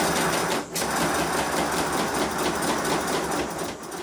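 A 5 inch gauge Modelworks pannier tank model engine runs on compressed air at 50 psi, a rapid, hard, even mechanical chuffing close by, steady throughout with one short dip in level.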